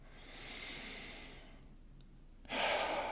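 Slow, deep breathing close to a microphone during a guided meditation: a long, steady inhale, a short pause, then a stronger rushing exhale.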